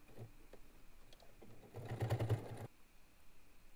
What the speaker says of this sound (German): Man kann richtig hören, wie meine Nähmaschine hier arbeiten muss bei dem Heavy Canvas.